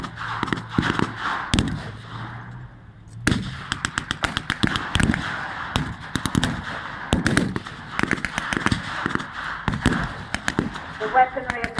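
A German gun fires at a WW2 battle re-enactment in a field behind a village, with rapid bursts of sharp cracks and bangs, some close and loud, others in quick volleys, over an outdoor background with voices.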